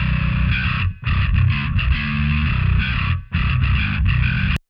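A heavily distorted bass growls with thick, fuzzy rumble, playing notes that blur together, pausing briefly twice before cutting off.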